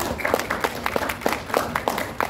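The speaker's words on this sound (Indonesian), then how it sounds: "Tepuk tangan ibu-ibu semua." Workshop audience of women clapping in a hall, a modest scattered round of hand claps with distinct individual strikes, moderately loud and steady.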